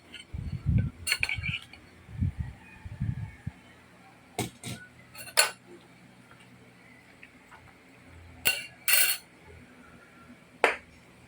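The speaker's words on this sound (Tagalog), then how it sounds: "Paghalo-haloin po lang natin ang mga sangkap." A spoon clinks and scrapes in a bowl while stirring chopped celery, onion, ginger, garlic, seasoning, beef cubes, flour and misua noodles for meatballs, with soft low thumps and a few sharp clinks at intervals.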